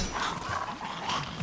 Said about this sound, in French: C'est juste des chiens.